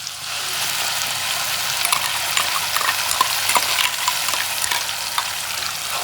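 Tomato paste frying for tomato rice, a dense, continuous sizzle and crackle at close range, with scattered small scrapes and spatters throughout and no talking.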